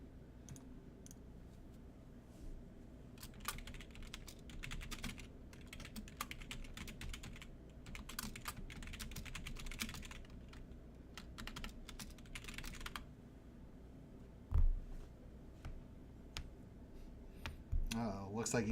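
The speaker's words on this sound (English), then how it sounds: "looks like he's typing a message to me" Rapid bursts of keyboard typing on a computer, crisp clustered key clicks for several seconds, then a pause and a few louder knocks near the end, with faint voices in the background.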